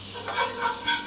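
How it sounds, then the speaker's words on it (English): Butter and all-purpose flour being whisked together in a pan for a roux, three quick close scraping strokes in a steady rhythm with a light sizzle underneath. "And I'm just going to whisk these together."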